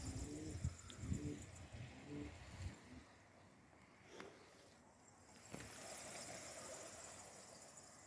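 Pigeons in a coop call with low cooing and rustle about as the flock takes flight, a faint outdoor wash of sound with soft wingbeats and calls that thin out midway, with no talking.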